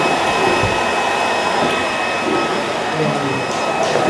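A heavy-duty wet and dry vacuum cleaner runs steadily and loudly close by, a constant broadband whine with faint voices underneath.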